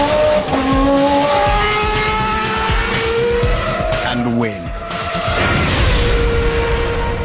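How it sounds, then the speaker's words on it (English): A Formula 1 race car screams past at high revs, the engine note rising, then falling and bending as it passes close by. A short phrase of speech overlaps the roar. "an F1 car accelerates to the kinds of speeds at which a jet aircraft takes off"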